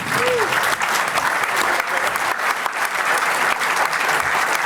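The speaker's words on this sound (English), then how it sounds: "Please an applause for him." A conference audience in Amsterdam gives a loud, even round of applause for a panel moderator, dense clapping lasting nearly five seconds without pause.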